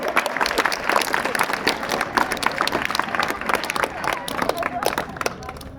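An audience at a memorial anniversary speech claps continuously, a dense, steady patter of many hands close by with a faint crowd murmur underneath.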